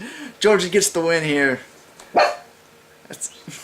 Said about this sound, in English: Excuse the dogs, where I'm filming in a different location right now.